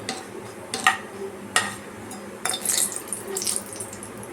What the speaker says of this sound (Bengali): শুকনো লঙ্কা ফাটিয়ে দিলাম, হালকা একটু নাড়িয়ে নেবো।